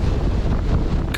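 Loud storm-force wind gusting 50 knots roars across the microphone at sea with the rush of waves, a continuous buffeting blast heard briefly and close.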